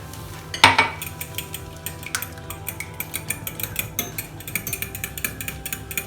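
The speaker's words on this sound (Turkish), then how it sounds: "İlk yumurtanı çırpalım." Eggs and yogurt being whisked together in a bowl while making göçmen böreği, giving a steady run of light clinking and scraping strokes against the bowl, with one louder knock near the start and no talking.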